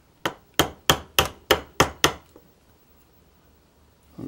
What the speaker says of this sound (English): Now I'll kind of tap that pin in.